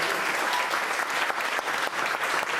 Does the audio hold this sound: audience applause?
yes